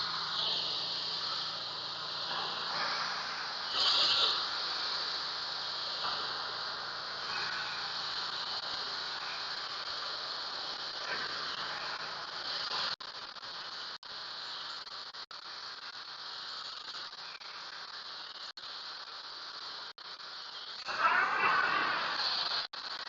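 A 2500 PSI, 5.5 GPM pressure washer rinses crud off a surface, a steady close hissing spray that runs continuously, with brief louder bursts near the start and end.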